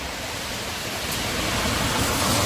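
A dense, roaring wash of heavy rain fills the air, steady and loud, swelling slightly stronger toward the end.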